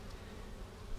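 A honeybee swarm hums in a dense, steady buzz at close range, with no voices over it.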